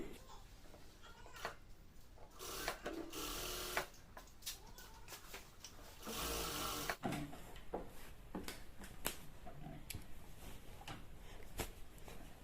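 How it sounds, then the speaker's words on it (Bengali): Sewing machine stitching fabric for a salwar, running in short bursts of rapid mechanical clatter broken by pauses, clicks and handling noises, quiet and close. "এখানে আমরা মিল করে এই কাপড়টা বসিয়ে দিয়ে সেলাই করে নেব"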